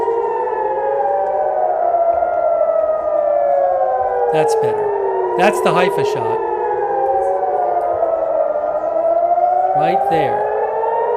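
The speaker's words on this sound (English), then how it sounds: "Sirens are going off." Civil defense air raid sirens in Haifa wail with slow rising and falling tones, several overlapping at a distance, under someone talking throughout.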